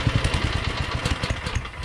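A Ferris FW15 walk-behind mower's engine catches and runs, a close, rapid, throbbing putter with a steady uneven chug for under two seconds.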